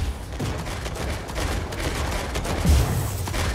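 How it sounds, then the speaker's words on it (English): Incoming gunfire in Mech Arena rattles in rapid, repeated bursts, loud and close, with a heavy thump of impact near the end and no talking. "Incoming fire."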